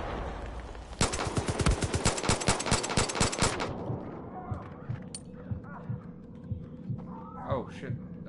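In the video game Far Cry 5, a burst of rapid gunfire crackles for a few seconds, then gives way to lower booming thuds and a rumbling aftermath, with faint voices near the end.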